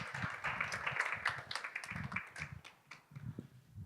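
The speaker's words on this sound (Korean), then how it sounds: "박수로 맞아주세요." Audience applause at a church and social-economy forum, welcoming a pastor to the stage: a steady, fairly soft wash of many hands clapping in an indoor hall, continuous for several seconds.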